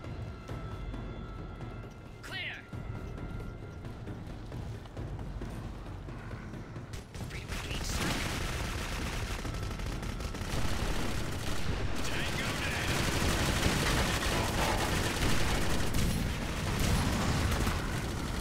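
Gunfire from a weapon in Clive Barker's Jericho, rapid shots over a busy, noisy combat mix that swells and gets denser about halfway through, with a short mechanical whine early on.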